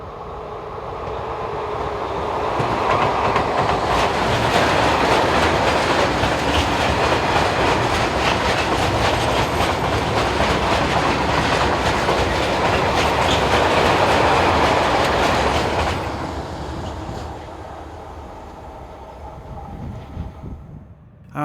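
Two ex-Dutch Class 6400 diesel locomotives, numbers 6482 and 6481, haul a freight train northbound past a trackside spot, a loud sustained rumble with rhythmic clickety-clack of wagon wheels that swells, holds steady, then fades to a quieter tail.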